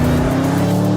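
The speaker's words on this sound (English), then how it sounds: "When I brake here, you can feel how stable the vehicle is, and yet it still steers incredibly well into the bend." Porsche Panamera Turbo S braking on a racetrack, a loud steady engine drone with a sustained tonal whine, close and continuous, no voices.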